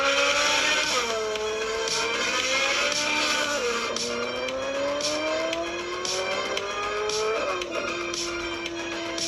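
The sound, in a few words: Ferrari car driving, in phone speaker test video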